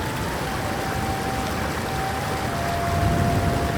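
Skakla waterfall, about 141 meters high, near Vratsa in the Balkan mountains, gives a steady broadband rush of falling water, constant and fairly loud, with a faint tone running over it.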